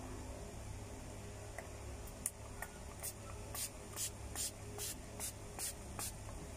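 Brilliant Skin face mist spritzed from a pump bottle, about eight or nine short bright sprays in a loose series, fairly close and clear over a quiet room hum, with no talking.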